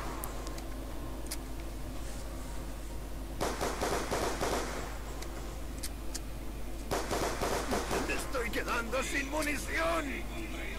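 Rapid gunfire bursts from Call of Duty Black Ops II zombies mode on the Buried map, aimed at zombies' legs. Two dense stretches of fire around the middle and late part sit over steady game background noise.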